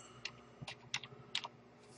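Someone types msconfig on a computer keyboard, producing several soft, quiet key clicks in an uneven rhythm close by, with no talking.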